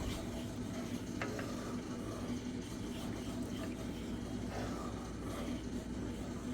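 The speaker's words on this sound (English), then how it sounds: "we're gonna stir this up" A homemade cold and cough remedy mixture is stirred in a steady, soft, continuous swishing and clinking, faint and close with no talking.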